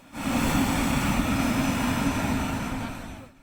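A steady, loud engine roar with deep rumble from a departing airplane fills the air, holding strong before fading near the end, with no voices.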